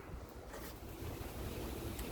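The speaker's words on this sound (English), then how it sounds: "not only is it terribly windy, it's just started to rain" Wind roars and buffets against the microphone, a broad rushing noise with low rumbling gusts, steady and unbroken.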